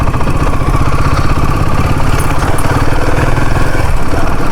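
Royal Enfield Himalayan 450 motorcycle engine running steadily with a suspected tappet noise, giving a continuous close-up mechanical clatter and rapid ticking over the engine drone throughout.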